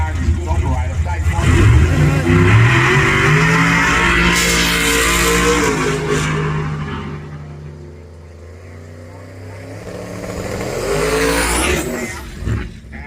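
A twin-turbo LS-powered drag race car launches off the start line at a track championship round, its engine a loud, rising roar that dips midway and surges again, with a voice over it.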